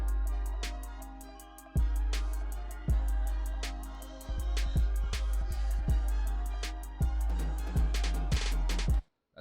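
Self-produced beat combining drums, a vocal chop sample and a melody: deep booming kicks hit in an irregular pattern under steady crisp hi-hats and a layered melodic bed, loud and close, cutting off abruptly at the end.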